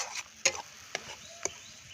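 A spoon stirs garden greens cooking in a pan with salt and turmeric, a few sharp clinks and scrapes over a faint sizzle, close and fairly quiet.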